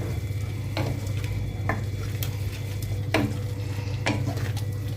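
Ground chili, garam masala and salt being stirred into oil in a frying pot for egg and potato biryani, a low steady sizzle with a handful of sharp spoon scrapes against the pot, a hum underneath, no voices.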